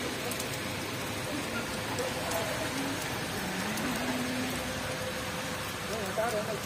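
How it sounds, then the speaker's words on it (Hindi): Heavy rain pours steadily across a city during a hailstorm in Saudi Arabia, a dense continuous hiss with no pauses, and faint background sounds mixed in. "बहुत ज़्यादा बारिश हुई है।"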